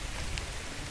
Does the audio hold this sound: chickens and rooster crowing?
no